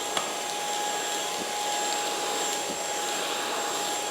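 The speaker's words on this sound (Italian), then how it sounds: "Accendo, metto in automatico, così fa tutto lui, e adesso proviamo ad aspirare il nostro divano." Smart Ai V5 cordless vacuum cleaner on automatic mode, vacuuming a microfibre sofa with a steady, loud whirring hiss and a faint high whine, continuous and close.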